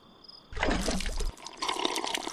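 Water slurps and splashes as the character drinks in the video game Miasmata, a short burst of liquid sound, a brief pause, then a second softer run of trickling.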